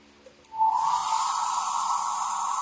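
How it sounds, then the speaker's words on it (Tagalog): A hair dryer switches on and blows in a steady, close whoosh, used to dry fresh custom paint on a figure. "gumagamit ako ng hair blower para mas mapadali yung drying time natin"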